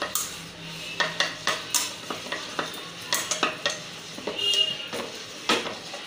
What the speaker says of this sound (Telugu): ఇట్లా మంచిగా ఆయిల్ రాసుకోవాలా.